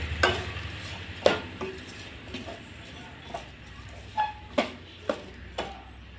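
Onions and tomatoes sauté with salt in a pan, a low sizzle under scattered, sharp stirring scrapes and taps of a spoon against the pan, spaced irregularly.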